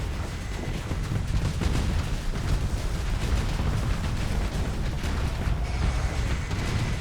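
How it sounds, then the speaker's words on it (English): Incoming missiles exploding in a war video game, a loud continuous barrage of booms and crackling blasts that overlap into a rumbling roar for several seconds, with no speech. "All the missiles are coming in."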